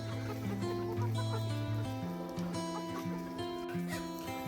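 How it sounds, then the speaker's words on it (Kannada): Free-range native country chickens of mixed colours on a village farm, clucking steadily and close by, several birds overlapping in a continuous chatter. "ನೋಡಿ ಎಷ್ಟು ಕೋಳಿಗಳಿವೆ"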